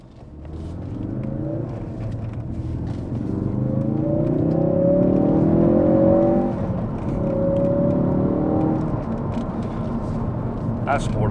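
A Ford Focus RS in sport mode accelerates from inside the cabin, its engine rumble and whine rising in pitch through the gears and easing off, with someone talking over it.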